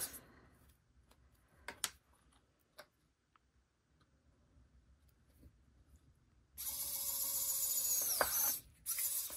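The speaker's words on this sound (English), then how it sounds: "So I'm going to take my drill" After a stretch of quiet clicks and handling noises, a power drill whirs loudly and steadily for a few seconds, close by, boring through a small piece of wood for earrings, then briefly cuts out.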